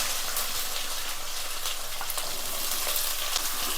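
Star anise frying in oil for a Thalassery chicken dum biryani: a steady, dense crackling sizzle that holds evenly throughout, with no voices.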